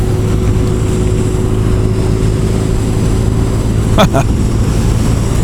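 A 2017 BMW R nineT Scrambler motorcycle cruises at about 50 mph with a loud, constant drone of engine and wind, and a brief tap partway through.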